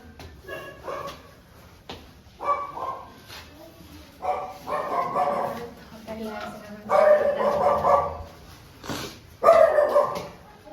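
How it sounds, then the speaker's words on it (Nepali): A dog barks in repeated bursts, several sharp barks and yips spaced a second or two apart, close by, with some voices in between. "हाम्रो घरको कुकुर"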